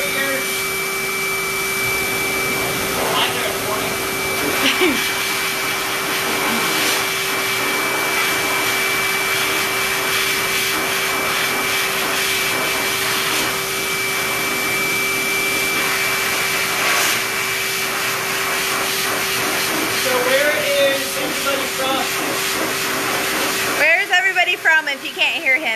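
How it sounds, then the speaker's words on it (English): Pet hair dryer blowing a continuous loud, breathy roar while a dog is dried, with people talking over it throughout. "if you hold the dryer like a pencil, you have more control."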